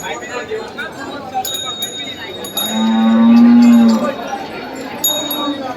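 A native desi cow at the Dhule cattle market gives one long, loud moo of about a second, rising above a busy background of market chatter and faint clinks.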